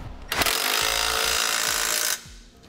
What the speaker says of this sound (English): I'm going to come back with a 19 millimeter socket and tighten up all my bolts.